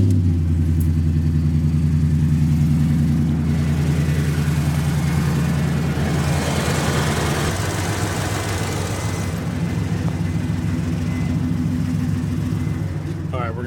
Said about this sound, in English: Turn on the engine once more.